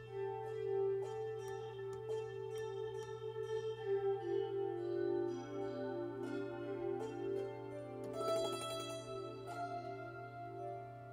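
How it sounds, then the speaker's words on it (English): Clean notes from an Oscar Schmidt Guitarophone ring out through a slow slapback delay, a soft echo repeating each pluck, steady picking over a constant low hum, no voices. "Just do like a slow slapback delay."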